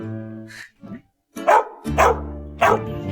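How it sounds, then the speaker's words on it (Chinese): A dog barks in short bursts, several loud close barks with brief whimper-like yips between them, no talk over it. "这狗一直汪汪叫"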